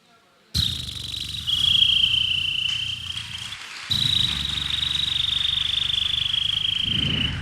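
A voice imitates a cricket chirping at night, producing a sustained high shrill trill that runs almost continuously with a brief break midway, close and fairly loud over a faint hiss.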